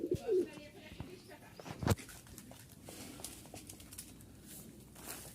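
A flock of Rajshahi Giribaj pigeons arrives with faint cooing and a few soft bursts of wing flutter, set against quiet outdoor ambience while someone speaks intermittently.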